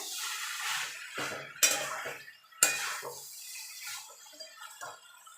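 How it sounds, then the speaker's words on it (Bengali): A spoon scrapes and stirs a vegetarian spinach and radish chorchori in a pan, with soft shuffling and two sharp metallic clanks against the pan, close up and with no talk. "এবার দিয়ে ভালো করে মিশিয়ে আমি নাড়িয়ে দেবো"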